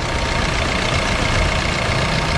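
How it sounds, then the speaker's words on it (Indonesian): A 2017 Suzuki Ertiga diesel hybrid idles close by, a steady, even engine rumble with a broad low drone that holds level throughout, no voices. "Nah, untuk bagian mesin bisa didengar sendiri."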